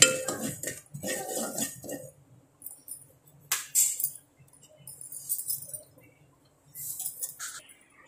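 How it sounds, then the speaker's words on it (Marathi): Poppy seeds dry-roasted in a pan for dry fruit laddu, heard as intermittent metallic scrapes and clinks of a spatula stirring, short bursts separated by near silence, fairly quiet and close. "आपण पहिले खसखस भाजून घ्यायचं आहे. ओके. छान परतत राहायचा असा."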